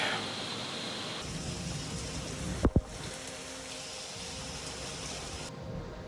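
Steady rain hisses heavily and evenly throughout, broken by a couple of sharp clicks partway through.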